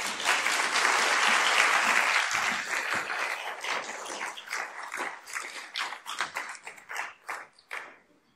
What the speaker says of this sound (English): One more round of applause for Dr. Jenkins, please.